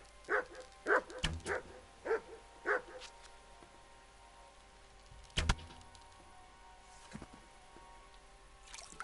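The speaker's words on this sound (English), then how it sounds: "Oh, that's the dog." A dog in the game Kingdom Come Deliverance gives five quick, sharp barks in a rapid burst, then one more louder bark after a pause, against a quiet background.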